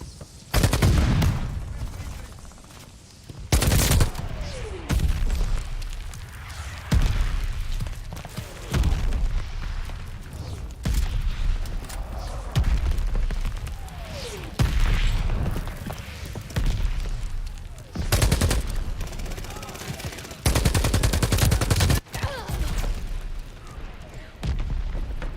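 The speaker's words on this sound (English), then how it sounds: "Heads up. Allied mortar fire coming." Mortar fire and explosions in Call of Duty Vanguard, loud repeated blasts and gunfire bursts spread through the battle, several heavy impacts, under occasional voices.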